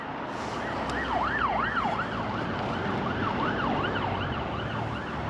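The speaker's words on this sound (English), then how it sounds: "they turn the sirens on and off just to get past the traffic" An emergency vehicle's siren wails up and down in a rising and falling sweep as it moves through city traffic. It sounds moderately distant, layered over a constant roar of traffic.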